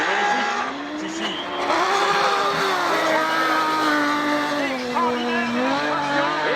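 A Trophée Andros race car on an ice circuit in Andorra, engine note rising and falling as it slows and then accelerates hard, loud and sustained with tire scrubbing, under excited commentary.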